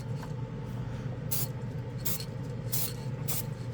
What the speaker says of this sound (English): You can't get in there with these spray cans.